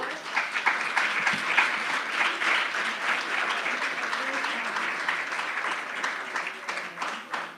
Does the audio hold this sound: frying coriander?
no